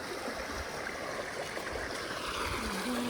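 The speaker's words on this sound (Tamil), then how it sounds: "நம்ம இப்போ அகஸ்தியர் ஃபால்ஸுக்கு வந்திருக்கோம்." A forest stream runs near Agasthiyar Falls with a soft, continuous rush and gurgle of water, steady and fairly faint throughout with no voices.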